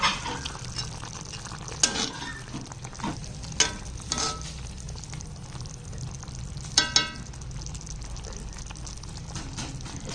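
Moringa (drumstick) curry bubbling and sizzling in a pan, with occasional sharp clinks of stirring cutting through the steady hiss.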